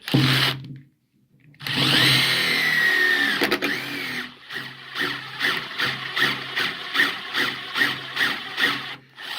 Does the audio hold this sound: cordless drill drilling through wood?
yes